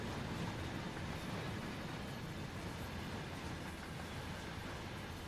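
A freight train with DPU locomotives rolls past in the video game Train Sim World. It gives a steady, fairly quiet rumble of rolling wagons that stays even throughout, with no talking over it.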